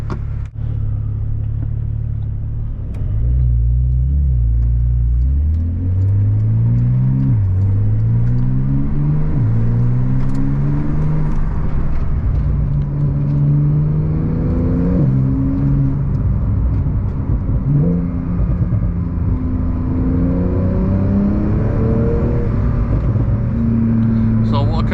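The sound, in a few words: Porsche 911 Turbo S engine starting and driving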